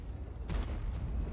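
A tank cannon fires in the World of Tanks video game, a single sharp boom with a brief rumbling tail over steady background game noise.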